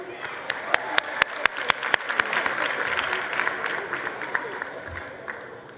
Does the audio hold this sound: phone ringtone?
no